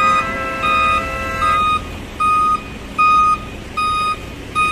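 A tow truck's reversing alarm sounds loud and close, six steady electronic beeps in an even rhythm of roughly one every three-quarters of a second, over a low hum of street noise with no talking.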